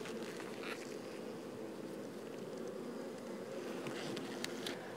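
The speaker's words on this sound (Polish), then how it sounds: "Pszczoły są łagodne" Calm honeybees buzz softly in an open hive on a cool morning, with no smoker in use: a faint, continuous hum with a few closer passing buzzes and light background wind.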